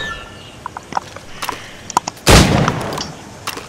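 A single loud, sharp gunshot from the video game Assassin's Creed Rogue cracks out midway, preceded and followed by faint scattered clicks and small ticks.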